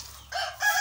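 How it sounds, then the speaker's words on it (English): Guinea fowl and other poultry on a farm in Tamale, northern Ghana, give two short, harsh bird calls in quick succession, close by and moderately loud. "And they even have some kind of guinea fowls here. These are the guinea fowls."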